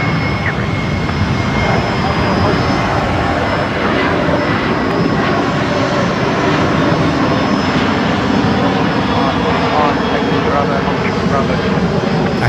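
A Qantas Boeing 737 jet at Brisbane Airport at night gives a loud, sustained engine roar that fills the whole stretch, while people talk over it throughout.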